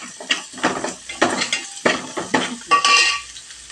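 Coriander leaves being sautéed in oil for tomato rasam, heard as a rhythmic series of utensil scrapes and clinks against the pan with faint sizzle between, close and fairly loud.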